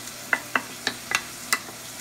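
A utensil stirs garlic salt with parsley and a little sugar into bitter melon and pork frying in a pan, giving about half a dozen sharp, separate clacks and scrapes spaced irregularly over two seconds, with no talk.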